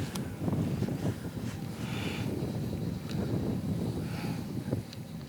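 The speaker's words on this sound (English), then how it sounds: "now we've got some high winds" High wind sweeping across a large northern lake, a steady loud rushing roar buffeting the microphone throughout, with no voices.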